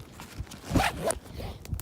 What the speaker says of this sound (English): Oh, forgot to close the zipper. Got to close the zipper.